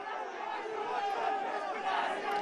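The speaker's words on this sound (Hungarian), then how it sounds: "És űzi hajtja még a játékosokat a hazai közönség." A home football crowd cheers and roars steadily in a stadium during stoppage time, a dense continuous wall of voices with a commentator talking over it.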